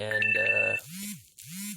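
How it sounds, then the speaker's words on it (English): A phone's ringtone chimes during a Kia Forte filter replacement, with steady tones up front, then two rising-and-falling swoops; a brief spoken word cuts in near the start. "That's my phone noise, not yours."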